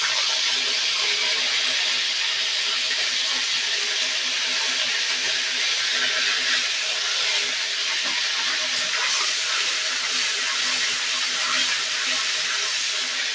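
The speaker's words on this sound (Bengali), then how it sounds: "এবার এই আদা রসুনের পেস্টটা আমি তেলের মধ্যে দিয়ে দিলাম।" Ginger garlic paste hits hot oil in a pan while cooking cumin chicken, giving a loud, steady hiss that holds unbroken throughout with no talk over it.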